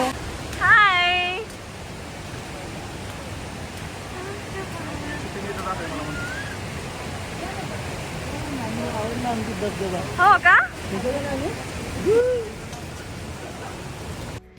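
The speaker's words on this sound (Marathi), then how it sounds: "इकडे मोठा धबधबा होता" Steady broadband rushing of a large waterfall fills the scene, with people talking and calling out briefly over the continuous roar.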